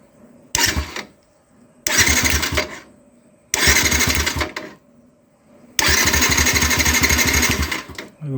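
A Yamaha SZ-RR motorcycle with a starting problem cranks on its electric starter in four loud, close bursts, each a steady whirring grind of about one to two seconds, separated by brief quiet pauses.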